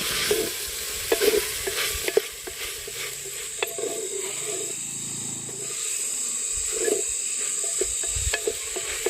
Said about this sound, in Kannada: ಈಗ ಅದನ್ನೆಲ್ಲ ಚೆನ್ನಾಗಿ ತಿರ್ಬೇಕು